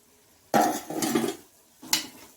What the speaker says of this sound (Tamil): கருவேப்பிலை போட்டு கலந்து விட்டுறோம்.